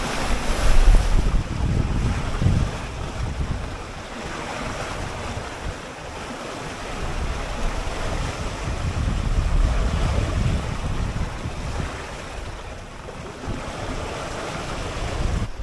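Freshening southwest wind at about 15 knots and waves at sea aboard a 21-foot plywood junk-rig sailboat, a steady rushing wind with microphone buffeting and repeated surges of water wash against the hull, no talk.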